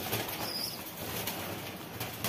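Baby pigeons flap their wings in short flurries close by while being given deworming medicine, a soft fluttering over a constant hiss, with no talking.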